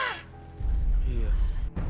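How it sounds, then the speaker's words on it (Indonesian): A crow caws once in a harsh, loud call near the start, after which a low, heavy rumbling sound takes over. "Kayak burung yang tadi suaranya, burung gagak yang di ruang sana."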